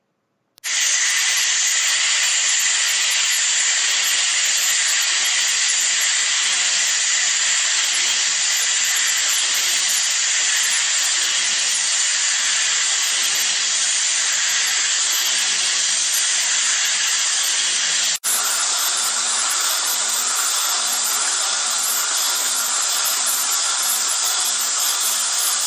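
An OSG A Brand AE-VML long flute end mill cuts a pocket on a CNC machine, giving a loud, continuous high-pitched cutting whine that stays steady throughout, with one brief click partway through.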